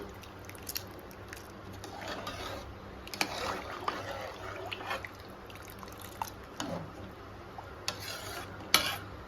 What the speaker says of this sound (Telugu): కలుపుకుందామండి. పప్పు బియ్యం రెండు.